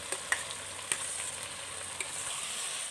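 Banana stem and potatoes frying in a pan, a continuous bright sizzle close by, broken by a few short scraping or clinking stirs, with nobody speaking.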